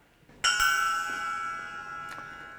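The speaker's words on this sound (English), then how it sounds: "like this bell here stuck to a very beautiful cymbal" A bell fixed to a cymbal is struck live, ringing out in a bright sustained metallic tone, with a second lighter strike near the end as the shimmer slowly decays.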